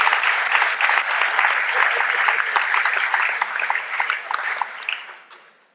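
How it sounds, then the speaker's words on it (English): School sports awards assembly applauding baseball coaches, a full crowd's clapping sustained evenly for several seconds before dropping off abruptly at the end. "So a quick round of applause for them."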